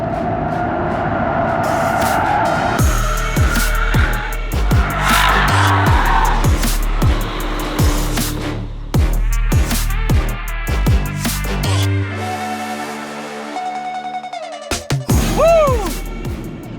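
A Nissan R34 Skyline with an open differential is driven hard through a corner, its engine note rising and falling through gear changes while the tyres squeal in oversteer under heavy braking, loud and close.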